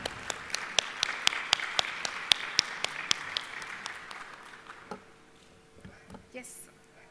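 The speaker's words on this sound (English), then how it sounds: "Please give a big round of applause for CA Dr. Mitra." Audience applause for a speaker at an institute of auditors event in India, a run of sharp, evenly spaced claps, loud and close, fading out after a few seconds into quiet room sound.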